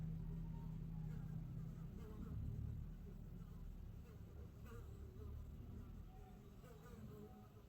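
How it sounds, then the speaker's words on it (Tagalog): Flies buzz continuously around a resting puppy lying on a person's feet, several insects humming close and fairly loud with a steady low drone throughout. "Ang langaw guys, sige jud sabay-sabay ang langaw guys."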